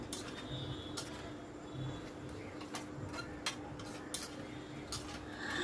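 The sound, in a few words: stirring chicken with fried onions in a pan on high flame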